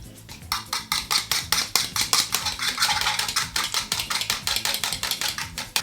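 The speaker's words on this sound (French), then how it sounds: "Donc là j'ai mon jaune d'œuf, je vais venir fouetter." Egg yolk being whisked in a bowl to glaze a galette des rois: fast, even metallic clicks of the whisk against the bowl, close and steady, with no talk.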